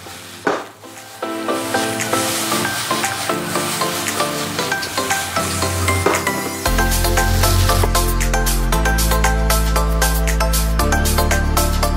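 Onion and garlic fry in a pan with a steady sizzle and occasional stirring scrapes, while music plays along in the background and grows louder partway through.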